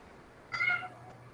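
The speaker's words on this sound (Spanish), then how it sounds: "perdón por el gato, pero ya comió, pero quiere más." A cat gives a single clear meow close by, a short rising cry in an otherwise quiet room during an online lecture.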